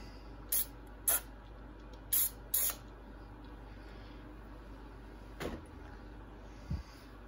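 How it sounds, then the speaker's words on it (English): A Snap-on FV71 ratchet gets four short, sharp hisses of engine degreaser spray in quick pairs, followed by a faint clack and a light tap against a quiet background. "a little bit more engine degreaser in there"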